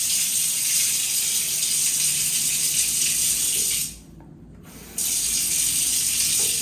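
Water runs steadily from a hotel room tap into a sink or shower, a close, constant hiss that stops for about a second midway and then resumes as strongly.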